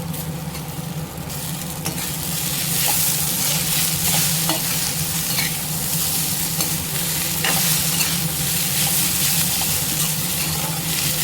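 Okra sizzles steadily in hot oil in a pan while a utensil stirs it, with occasional scraping clicks over a constant loud frying hiss and no talking.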